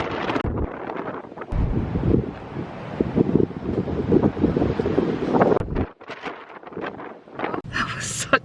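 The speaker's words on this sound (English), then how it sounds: "That was such a windy walk." Strong gusts buffet the microphone on a windy beach walk in Paignton, a loud continuous rumble with brief lulls and a short drop near the end, and a voice speaks faintly under it.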